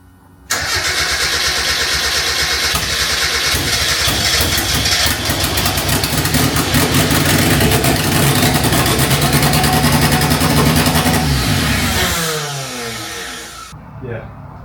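A Mazda MX-5 drift car cranks and catches, then runs loud and rough for about twelve seconds with hard, uneven revving before winding down and dying, followed by near silence.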